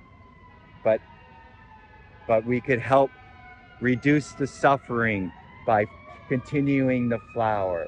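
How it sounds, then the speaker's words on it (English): A fire engine siren wails steadily in the distance, rising and falling beneath someone speaking close by. "You can hear the fire engines and the whatnot in the background."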